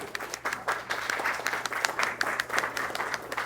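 Steady applause from a small group at a book signing, many hands clapping continuously for a few seconds, fairly close, with no talking.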